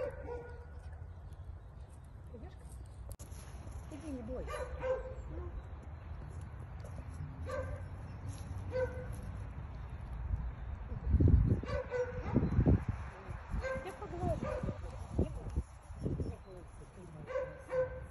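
A mother dog that has just had puppies, caught near a church, gives a few short yips and whimpers close by, while people talk softly to her and move around her throughout.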